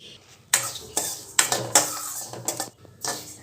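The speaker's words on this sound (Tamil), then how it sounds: "ஃபர்ஸ்ட் நம்ம திணை அரிசி வறுத்துக்கலாம்." Foxtail millet dry roasting in a pan, with several sharp scraping and rattling stirs against the metal and grains shifting between them, close and fairly loud.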